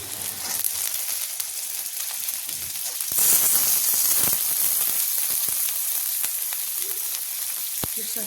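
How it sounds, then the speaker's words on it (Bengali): Onion and potato fry in a pan, a continuous close sizzle that swells louder partway through, punctuated by sharp utensil taps and stirring scrapes, with no talking. "পেঁয়াজটা তো বেশি ভাজবো না, পেঁয়াজটা বেশি ভাজলে তেতো লাগবে খেতে।"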